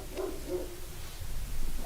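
A dog gives a few soft, brief barks and yips, fairly quiet and over in moments, with no talking.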